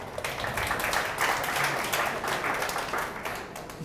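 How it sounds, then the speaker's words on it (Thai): Crowd applause from an audience at a public workshop on local bus service, steady dense clapping filling the room at moderate loudness for the whole stretch. "ปรบมือให้หน่อยครับ"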